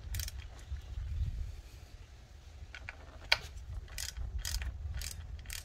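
A ratchet fitted with a quarter-inch Imperial socket turns the bolt on a crankshaft position sensor on a Mercedes M112/M113 engine, giving several short bursts of rapid clicking close by, separated by pauses.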